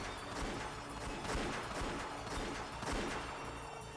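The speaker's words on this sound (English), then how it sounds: "As soon as I heard the sound of repeated gunfire" Bursts of repeated gunfire crackle through a dense, loud battle din in the visual novel Umineko no Naku Koro ni, several sharper shots standing out over a continuous roar, with no talking.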